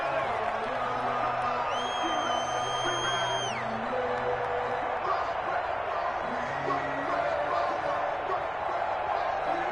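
Home stadium crowd noise in a PS4 football video game, a steady loud roar with whoops and cheering, including a rising whistle-like yell near the start, under an announcer's ongoing commentary.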